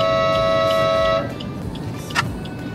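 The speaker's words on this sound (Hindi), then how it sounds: "बापरे कि हॉर्न मरछन" On a highway drive from Bangalore to Odisha, near Tirupati road, a vehicle horn blares steadily for about a second over traffic rumble, and a shorter toot follows a moment later.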